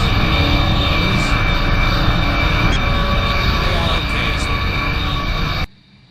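The jet engines of a Me 262 fighter in the video game BeamNG build up power while the brakes are held, a loud, steady roaring whine that holds level and then cuts off abruptly near the end.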